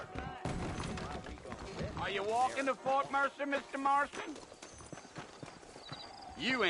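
Horses clip-clop in Red Dead Redemption, set in the frontier region of New Austin. Steady hoofbeats carry through the whole passage, with a brief whinny-like tone and game voices mixed in.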